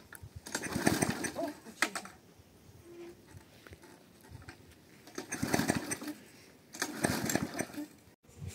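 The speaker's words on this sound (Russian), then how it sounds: "там в огороде между деревьями покосить" Petrol grass cutter mowing between trees in a village garden, its engine droning steadily and rising in loud surges as it cuts, close and continuous.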